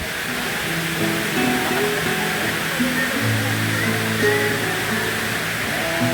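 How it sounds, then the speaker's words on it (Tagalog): A waterfall in Antipolo roars in a constant broadband rush, close and loud, with faint tonal sounds from distant voices beneath it. "Tapos dito bumabagsak yung tubig."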